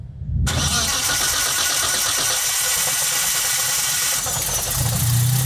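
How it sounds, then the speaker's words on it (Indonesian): A car with a standalone ECU cranks briefly and fires up, then settles into a loud, steady running idle with a slight rise in revs near the end, heard alone and up close. "Oke, mobilnya hidup sekarang."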